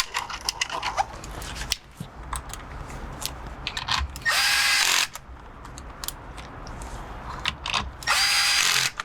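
Power drill driving screws back in while a steering wheel position sensor is reinstalled in a car, two loud whirring bursts of about a second each between ratchety clicks and handling sounds.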